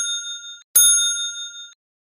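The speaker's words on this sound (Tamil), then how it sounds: "வீட்டோட காலிங் பெல் சத்தம் கேட்டுச்சு" A house doorbell rings in two clear electronic chimes, the second sharper strike ringing out for about a second before silence.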